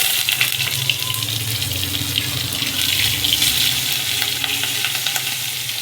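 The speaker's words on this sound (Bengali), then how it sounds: "রসুনটাকে ভালো করে ভেজে নেব।" Garlic paste and green chilies fry in hot oil with black cumin and whole cumin seeds, giving a steady, close sizzle with a watery hiss that runs unbroken throughout.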